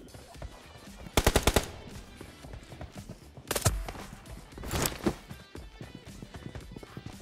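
A pistol in a video game fires a rapid burst of four or five sharp shots, followed later by a couple more louder single cracks amid footsteps and faint background game noise.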